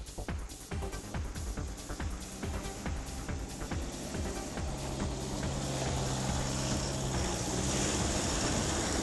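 A Toyota Prado 4WD with electronic traction control revs hard while climbing a hill, a loud steady engine roar that builds and holds throughout, with faint clanks early on.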